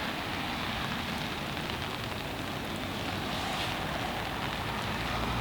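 Winter rain falling during pole fishing for tench, a steady dense hiss of drops on surfaces outdoors with some wind, even and continuous with no voices.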